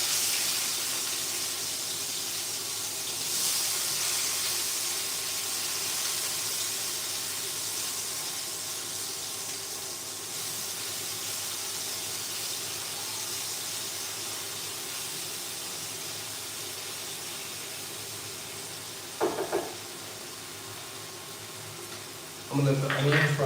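Onions fry in a pan on a home kitchen stove, a steady broadband sizzle and hiss running throughout, with a couple of brief clatters near the end and no talk over it.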